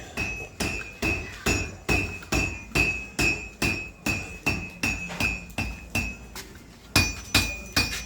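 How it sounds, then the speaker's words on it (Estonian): A blacksmith at a windmill smithy hammers hot steel to forge a nail, with about eighteen loud, close, evenly paced ringing blows and a metallic chime after each strike, and no talking. "seal sepistatakse juba midagi"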